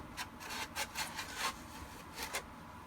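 Sandpaper rubbing over the back of a plastic Shadow Trooper armor piece, a run of short, close scratchy strokes in an uneven rhythm with no talking.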